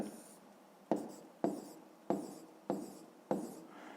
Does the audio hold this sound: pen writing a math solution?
yes